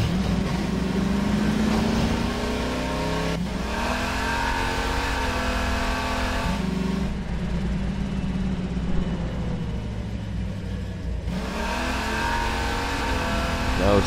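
Vehicle engine in Half-Life 2 roaring steadily while boosting, a loud sustained drone with pitch shifts as it revs up and eases off several times.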